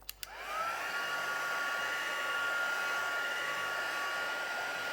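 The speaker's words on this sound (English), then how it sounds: "get our heat gun out" A heat gun runs steadily for several seconds, heating embossing powder on a card. After a couple of brief clicks at switch-on it gives a loud, continuous blowing roar close to the listener, with a faint whine above the airflow.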